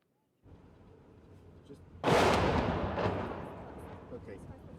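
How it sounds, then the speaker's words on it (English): Heavy artillery booms out over a contested city in Bakhmut during fighting between Ukrainian and Russian forces, a loud sudden blast rolling into a long rumbling decay over steady low background noise. "from here, you can hear the artillery and the automatic gunfire"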